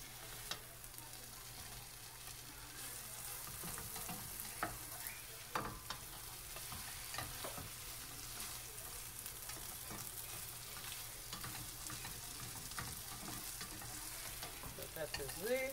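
Eggs for a spinach omelette fry in a pan with a soft, continuous sizzle, broken by occasional clinks and scrapes of a utensil against the pan; quiet and close, with no talking.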